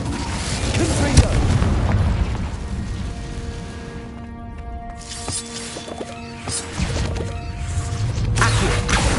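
In Hogwarts Legacy, Confringo explosion spells burst in loud, booming blasts with crashing impacts and clanking mechanisms, alongside a quieter ringing stretch in the middle.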